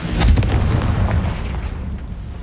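A Confringo blasting spell goes off in Hogwarts Legacy as a loud, close boom with a heavy low rumble, then trails into a lingering roar that fades over a couple of seconds.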